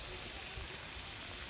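Chopped coconut sizzling in hot ghee and mustard oil, a steady close frying hiss running evenly for the whole short stretch with no voices.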